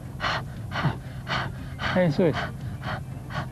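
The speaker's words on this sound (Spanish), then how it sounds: "Si te duele mucho, respira. Voy a jadear." A patient pants heavily in quick, rhythmic breaths, close and fairly loud, while a voice speaks briefly over the breathing.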